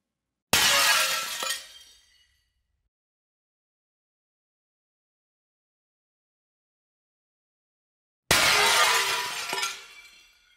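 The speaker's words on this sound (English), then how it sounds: "The glass debris sound is still a little small." Pitched-down glass debris shattering as a sound effect, heard as two loud, bright crashes about eight seconds apart, each trailing off over a second or so, with silence between.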